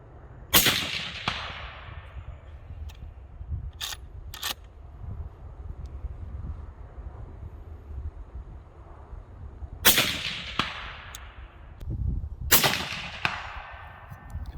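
Crisp, loud shots from a .223 lever-action rifle fire outdoors at long-range targets, with one shot early, then a pair and a third later, each followed by a brief echoing tail over faint wind noise.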